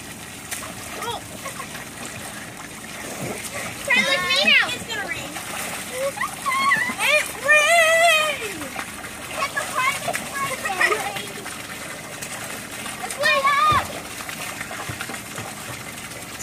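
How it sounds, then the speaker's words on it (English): Water splashing in a pool or lake during summer play, with bursts of sloshing and splatter rising and falling over about sixteen seconds while children shout and talk throughout. "Stop splashing"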